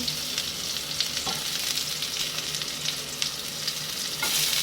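Garlic and onion sautéing in a hot pan, with a steady, fairly quiet sizzle and scattered scraping stir sounds from a utensil. No voices are heard.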